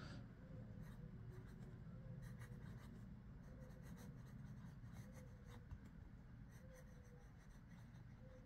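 A Waterman Expert fountain pen nib scratches across paper in a steady run of soft strokes and ticks, very faint and close, with a low background hum and no talking.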